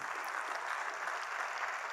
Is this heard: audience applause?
yes